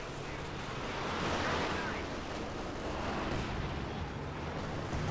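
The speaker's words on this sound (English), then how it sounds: "we have the next Panzerwerfer barrage" Panzerwerfer rocket artillery barrage in a competitive tournament video game match, a dense, continuous rumble of blasts and explosions rolling steadily for several seconds without letup.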